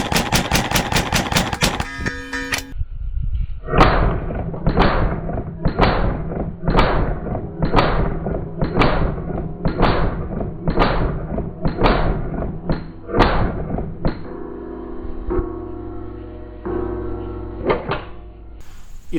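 A .22 caliber speed-shooting gun fires in full auto mode. After an opening rapid burst come about ten sharp, evenly spaced, loud shots, then a softer stretch and a final pop.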